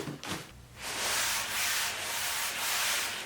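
Hand rubbing across the fabric of a Hikenture double sleeping pad gives a steady, close scratchy rustle that swells after a brief soft start and keeps going without pause.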